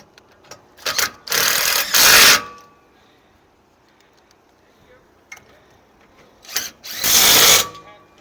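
A power drill tightens bolts during flatbed trailer unloading prep, two loud, close bursts of whirring about a second each, separated by a quiet stretch with faint handling noise.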